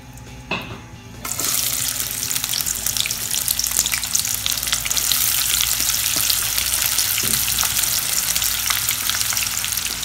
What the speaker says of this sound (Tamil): எண்ணெய் ஊற்றிட்டு இந்த எடுத்து வச்சுருக்க இந்த வெங்காயத்தை அதில் போட்டுருங்க